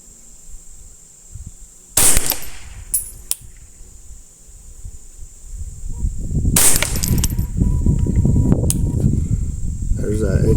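Two sharp, loud cracks from a Ruger 10/22 rifle fired at a 100-yard benchrest target, spaced several seconds apart, each with a brief follow-up tick, over steady wind and rising gusts.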